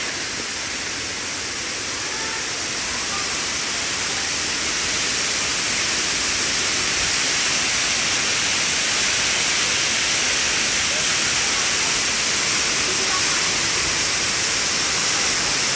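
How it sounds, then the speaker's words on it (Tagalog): A steady, loud roar of water pouring down Middle Falls fills the scene with dense, broadband rushing noise that holds constant from start to finish, with no talk over it. "Nandito tayo sa Middle Falls."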